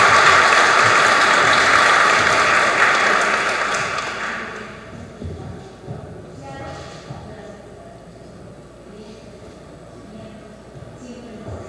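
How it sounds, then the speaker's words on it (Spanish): Audience applause at a legal seminar on juvenile criminal law, a loud burst of clapping for about four seconds that thins into scattered claps and fades under a quiet room murmur. "Un fuerte aplauso, por favor, por su participación"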